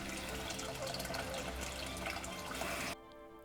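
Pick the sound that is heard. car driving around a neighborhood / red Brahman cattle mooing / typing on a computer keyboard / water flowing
water flowing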